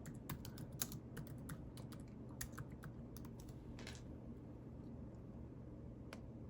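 Faint, quick keystrokes tap out a short search on a computer keyboard in a quiet room, a brisk burst of typing followed by a few scattered isolated clicks.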